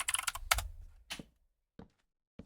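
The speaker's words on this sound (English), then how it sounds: "I'll type in build" Keys on a computer keyboard are typed: a quick flurry of close clicks, then a few isolated, fainter taps with quiet gaps between them.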